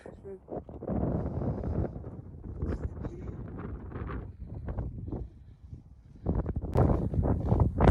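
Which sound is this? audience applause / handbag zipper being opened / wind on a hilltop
wind on a hilltop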